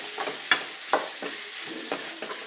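Sliced onions with salt frying in a pan, a soft steady sizzle broken by a few sharp scraping stirs of a spoon. The sound is close and fairly quiet, with no voices.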